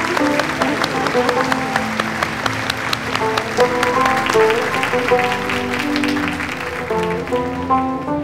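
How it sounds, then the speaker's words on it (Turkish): Guests at a remarriage ceremony keep up a sustained round of applause, dense clapping layered with music and scattered voices, fairly loud and steady. "Alkış devam devam."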